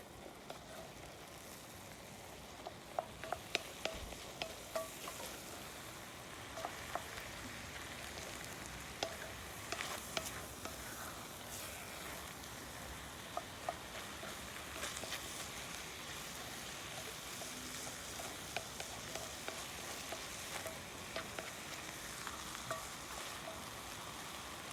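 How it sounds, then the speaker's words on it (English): Flour being mixed into a sizzling chili mixture in a pan, a soft, steady frying hiss dotted with repeated light scraping and tapping stir strokes, fairly quiet throughout. "Okay, now 2 tablespoons of flour, and that'll be our binder. Gonna mix it all up here."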